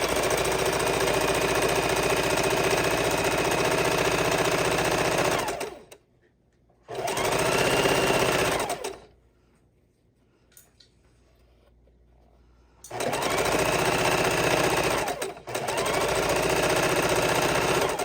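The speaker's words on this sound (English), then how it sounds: "I like to lock in my stitch as I start and then straighten my piece" A sewing machine stitches quilt pieces together in loud, steady bursts, stopping twice in the middle for several seconds before starting up again.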